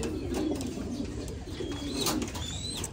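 Domestic pigeons kept in a loft coo in low, throaty repeated rolls throughout, with a few faint higher chirps from other birds behind them.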